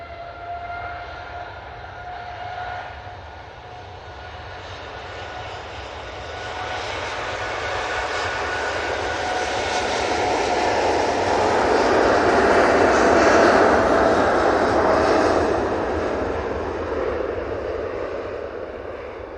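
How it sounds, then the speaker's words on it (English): A Qatar Airways Boeing 787-9 Dreamliner departs Manchester Airport for Doha, its jet engines building into a broad sustained roar that swells to a peak and slowly fades, heard alone without voices. "So, Qatar 787-9 Dreamliner."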